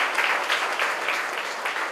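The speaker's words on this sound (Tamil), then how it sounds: "அதுலேயும் அவங்களை அறிமுகப்படுத்தும் பொழுது கை தட்டலாம்" Audience at a Rotary club event breaks into steady, dense clapping that carries evenly through the whole stretch, moderately loud with no talk over it.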